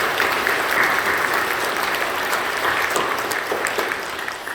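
A church congregation claps together, a dense, steady burst of applause filling the room at close range and holding evenly before tapering slightly at the end.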